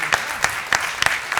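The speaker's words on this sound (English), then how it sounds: "You can give him an applause again" A meetup audience gives a brief, steady round of applause, a dense patter of clapping hands filling the room at moderate loudness.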